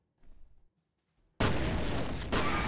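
Sudden loud blast in the shooter game F.E.A.R. erupts after a brief quiet, a broad booming explosion that holds as a dense rumbling roar with a second swell near the end, no talk over it.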